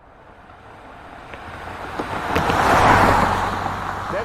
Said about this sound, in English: Do we have rental car sound effects?